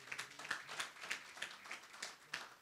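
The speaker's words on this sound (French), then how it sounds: "Je vous invite à l'applaudir" Sparse audience applause honoring a regional environment director at a recycling awards ceremony: a handful of people clapping in a loose, uneven rhythm, faint and somewhat distant, with each clap distinct.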